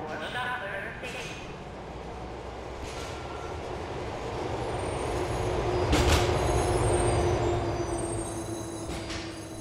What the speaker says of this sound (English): The train approaching is the 3 train bound for Shutter Station.